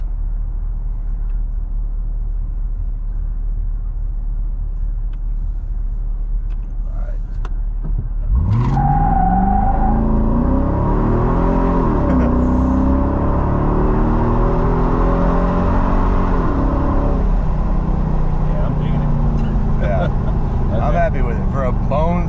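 Stock truck engine revving hard and pulling under acceleration from inside the cab, a loud, rising drone that climbs and holds for several seconds over a constant rumble.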